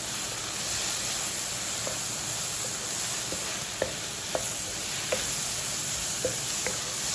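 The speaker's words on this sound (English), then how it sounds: "we're going to saute this for roughly 5 minutes" Carrots and onions sauté in a pan with chili and garlic powder, giving a steady loud sizzle with occasional light clicks of stirring and no talk.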